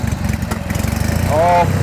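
A fire truck engine idles steadily in a low, rumbling drone, with the throttle nudged up near the end so the pitch rises slightly and a whining tone appears; the engine is close and loud, with no talk.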